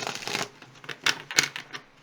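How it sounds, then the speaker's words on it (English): Tarot cards riffled and shuffled up close, a burst of papery flutter followed by several quick snaps and taps, quiet and with no speech. "Alrighty, last shuffle."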